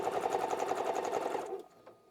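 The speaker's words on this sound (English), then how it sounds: "I'm just going to back stitch here and tie it off" Sewing machine back stitching the seam of a fabric book sleeve: a fast, steady mechanical chatter that stops abruptly after about a second and a half, leaving a few faint clicks, close and with no talking.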